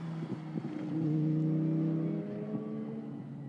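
GT Cup Open Europe race cars at the Paul Ricard circuit in France during qualifying, engines droning steadily with a rising pitch as one passes fairly close, loud and continuous with no talk.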